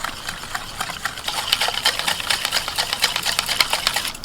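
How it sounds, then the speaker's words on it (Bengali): Milk being whisked into oil and powdered sugar for an eggless sponge cake batter, a quick, close, rhythmic run of beating strokes against a bowl that grows busier and more forceful toward the end. "এবার এর মধ্যে আমি দিয়ে দিচ্ছি দুধ 1 কাপ, এটাও ভালো করে মিশিয়ে নেব"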